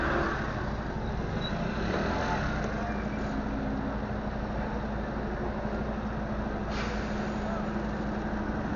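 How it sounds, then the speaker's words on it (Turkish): Tour buses roll past on a street in Marmaris, making a steady broadband engine and road rumble of even loudness throughout, with a short hiss-like burst partway through. "muhteşem tur otobüsleri geliyor"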